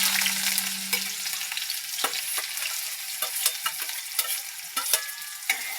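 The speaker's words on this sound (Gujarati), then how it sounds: "હવે એડ કરીશું ઝીણી સમારેલી ડુંગળી." Finely chopped onions dropped into hot oil with cumin seeds and dried red chilies sizzle loudly and continuously, with scattered clicks of stirring.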